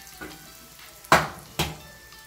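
Egg frying in a pan is stirred with a utensil over a faint low sizzle, with two sharp scraping clacks that stand out close and clear.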